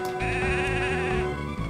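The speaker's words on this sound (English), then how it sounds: "The sheep are milling about restlessly." Sheep bleating in the Mother 3 video game: a steady, tonal bleat holds for over a second, with a bouncing game tune underneath and no talking.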